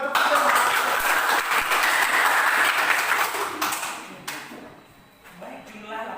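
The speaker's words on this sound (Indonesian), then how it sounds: "Tepuk tangan untuk Firman." A classroom of students applauding a classmate with a burst of scattered hand clapping that fades out after a few seconds, with voices talking over it.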